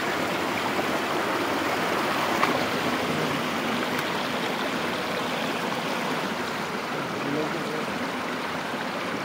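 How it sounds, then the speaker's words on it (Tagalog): A small stream flowing steadily in Cadiz City, Negros Occidental, Philippines, a continuous rushing, babbling wash of water close by with no pauses. "Yan dito sa sapa ay ilog na maliit."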